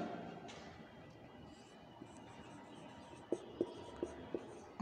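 A formula being handwritten during a production management lesson: faint, continuous pen scratching on paper, followed by a short series of light taps near the end.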